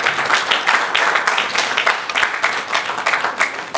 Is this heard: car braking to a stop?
no